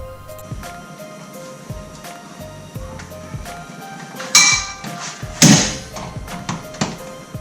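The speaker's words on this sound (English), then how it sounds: "I was able to snap that bolt" Metallic clinks and scrapes of a wrench working on a seized exhaust bolt of a Nissan 370Z, then a sharp loud crack followed by another sudden metallic snap, close and in a quiet workspace.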